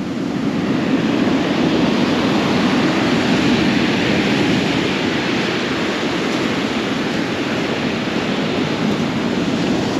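Heavy stormy sea surf at the Lazarevskoye embankment in Sochi roars without pause on an overcast morning, a dense wash of crashing waves and wind-blown spray filling the whole stretch, loud and close.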